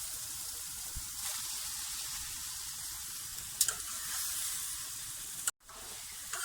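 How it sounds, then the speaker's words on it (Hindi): Potatoes fry in a pan of spiced masala, giving a soft, steady sizzle close by with a few brief clinks and a short pause near the end; no one speaks. "आलू को मैंने 2 से 3 मिनट तक भून लिया।"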